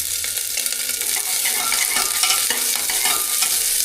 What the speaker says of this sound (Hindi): ऑयल हो गया गर्म, इसमें डाल देता हूँ प्याज को और तड़का लगा देता हूँ इसको।